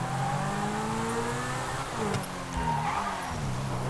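Car engine in Grand Theft Auto V online, driving through city streets, a steady mid-level drone with shifting engine tones and occasional rises in revs, continuous with no talking.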